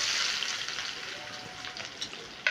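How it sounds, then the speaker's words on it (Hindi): Chopped onion tipped into three tablespoons of hot oil in a pan, a close, bright hiss of frying that starts loud and settles into a steady sizzle. "पैन हमारा गर्म हो गया है, इसमें हमने 3 टेबल स्पून तेल डाल दिए, और ये जो प्याज कटी हुई रखी थी इसको डाल देंगे"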